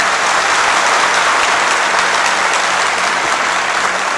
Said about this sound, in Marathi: जोरदार टाळ्या वाजवायच्या एकदा